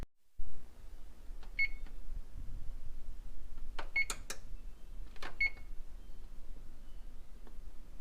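An oven timer is set with a few short electronic beeps spaced seconds apart and small clicks between them, faint and close in a quiet kitchen.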